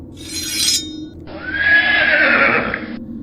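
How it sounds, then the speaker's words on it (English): A horse in a medieval fantasy story game gives a loud, close neigh: a short, bright burst, then a longer, wavering whinny lasting more than a second over a low rumble. "Clayton's horse galloped as if it were racing to the ends of the earth"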